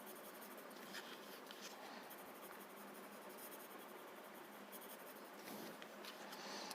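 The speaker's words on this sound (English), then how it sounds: "Add the graphite on one side." Graphite pencil shading on paper, a close, steady dry scratching hiss with faint strokes, continuous and quiet without talk.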